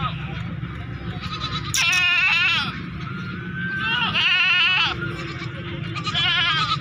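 A breeder-quality goat bleats repeatedly, a few loud, wavering calls close by, over a continuous murmur of someone talking and faint background noise.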